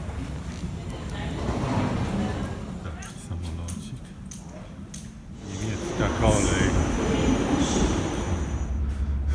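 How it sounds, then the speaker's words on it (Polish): A passenger train out of Frankfurt rolls along with a steady low rumble and clatter, loud inside the carriage, with brief clicks and squeals over the running noise and people talking faintly beneath it. "teraz na pociąg pociągiem do drugiego Frankfurtu"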